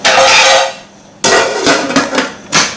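A lid clatters onto a pot of simmering efo riro, Nigerian vegetable stew: a sharp metallic clank, a brief pause, then several quick rattling knocks as it settles, close and loud.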